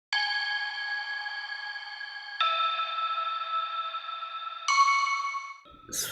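Synthesized bell tones from Serum presets in an FL Studio melodic dubstep remix: three sustained, bright, harmonically rich notes each held around two seconds, the last pitched higher, ending in a short glitchy burst.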